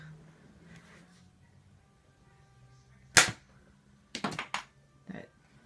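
A toy blaster fires a homemade screw bullet indoors: one sharp, loud snap, then a cluster of quick clattering knocks about a second later as the projectile strikes a bed or mattress.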